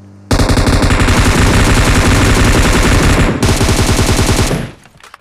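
Video-game gunfire in BGMI on the Erangel map: loud, close, continuous automatic bursts of rapid shots for about four and a half seconds, then a brief pause, then more firing that fades out. No voices.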